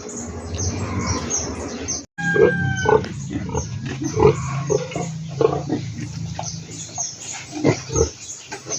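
Pigs grunt and squeal repeatedly at close range, with bird chirps and some rustling in the background.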